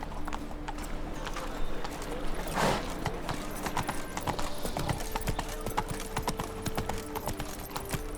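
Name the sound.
horse galloping in video game The Witcher 3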